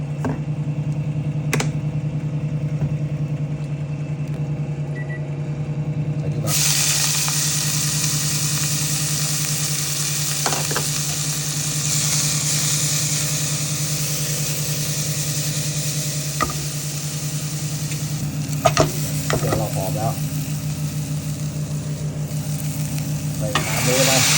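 Steady, loud sizzling of seasonings being stir-fried in a hot wok for crispy pork leg with holy basil, with occasional clatters of a utensil scraping and tossing, over a low mechanical hum.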